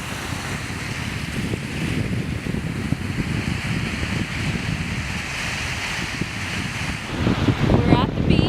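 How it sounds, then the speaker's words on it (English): Wind rushes hard across the microphone while surf churns in a steady roar, swelling louder near the end. "We're at the beach."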